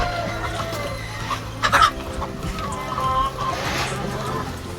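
Hens cluck softly in their sleeping area, a few short calls rising over a steady low background hum, with some brief sharper clucks near the middle.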